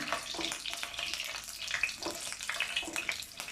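Garlic crackles and sizzles in hot oil in a pan while being made into a sweet-sour grape pickle, a continuous close frying hiss dotted with small pops and stirring clicks.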